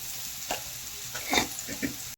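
Green chili and garlic paste frying and being stirred in a pan, a soft sizzle with a few brief scraping stirs, quiet and close with no talk.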